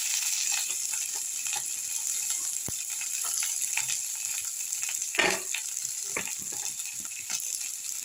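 Chopped onion dropped into hot oil in a pan for an egg and cauliflower dish, sizzling steadily with scattered clinks and stirring scrapes, one louder clatter midway.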